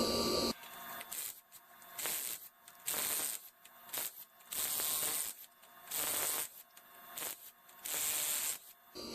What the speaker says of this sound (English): let's get these axle bolts out